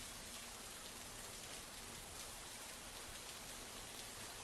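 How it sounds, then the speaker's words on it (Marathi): Heavy monsoon rain falls in Wardha, a dense, steady hiss of downpour with no pauses, filling the whole stretch evenly at a moderate, distant level. "वर्ध्यामध्ये सुद्धा मुसळधार पाऊस सध्या बघायला मिळतो"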